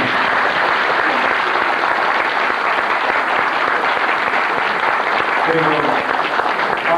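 Dinner-show audience applauding in a Beijing international hotel banquet hall, a steady dense clapping that runs the full length at close range, with a voice speaking over it.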